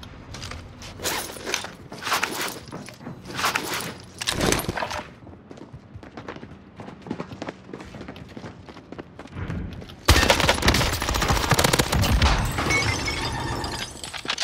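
In a video game, a turret hammers out machine-gun fire in loud rapid bursts over the opening seconds, quieter mechanical clatter follows, and then a dense sustained barrage of fire rises near the end.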